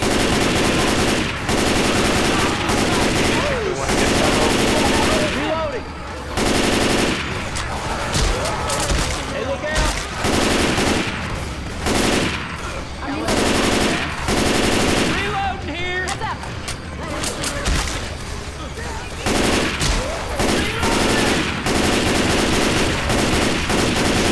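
Gunfire in the co-op zombie shooter Left 4 Dead 2, rapid automatic bursts and fusillades repeating across the whole stretch, loud and close, broken by short gaps, with players talking in between.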